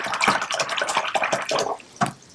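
A watercolor brush swished and rinsed in a jar of clean water, giving a quick run of close, light splashing and dripping sounds with no talking.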